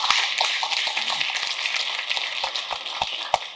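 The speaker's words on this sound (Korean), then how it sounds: "제가 박수를 두 번째 받는 것 같습니다" An audience at a policy forum applauds a speaker, producing a dense patter of clapping with a few sharper individual claps standing out, fairly close and gradually thinning toward the end.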